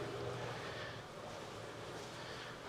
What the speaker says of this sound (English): Exhaust fan you can hear.